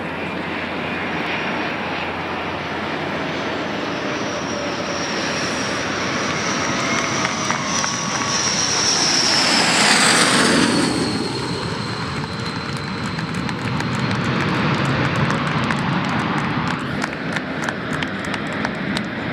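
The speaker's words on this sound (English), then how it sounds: "The maiden flight of the Boeing 787-9 Dreamliner about to wrap up here." A Boeing 787-9 Dreamliner lands at the close of its maiden flight, a loud, steady roar of jet engines swelling to a peak and then easing into a sustained rumble with no voices.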